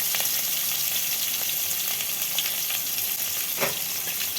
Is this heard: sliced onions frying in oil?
yes